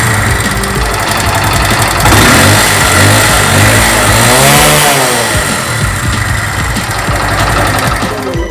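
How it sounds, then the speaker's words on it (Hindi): A Mahindra Centuro motorcycle engine runs on an LPG kit with the air intake left unblocked, a loud, close, steady idle that swells with a few revs in the middle, no speech. "बिना एयर ब्लॉक किए गाड़ी हमारी रनिंग कर रही है।"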